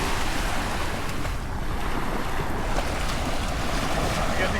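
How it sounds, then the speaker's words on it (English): Waves rolling in at a dog beach, a steady broadband wash of surf with heavy wind buffeting the microphone, constant and loud throughout with no clear voices. "This is the beach. It's called the dog beach."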